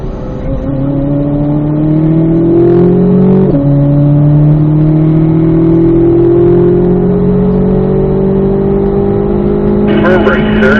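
A race car accelerates steadily on a track out of a curve, its engine note climbing in long rising sweeps with a brief dip at a gear change, loud and close from onboard, with a voice talking over it.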